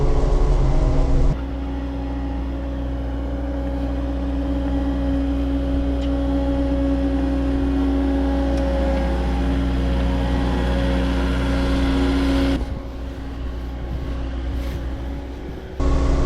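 A new CAT 259D3 skid steer runs while clearing the first snow of the year, a steady low droning hum close by that holds evenly before cutting back near the end, with no talk.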